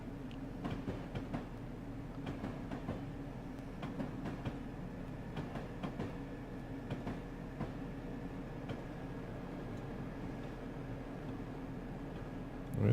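A Canadian National freight train with a rear helper locomotive rolls past on the Feather River line, a continuous rumble of wheels with faint rail clicks and a steady tonal hum, fairly distant and unbroken.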